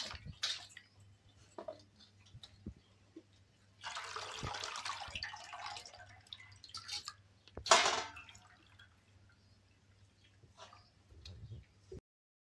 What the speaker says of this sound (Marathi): हे बघा मम्मी चिकन धुते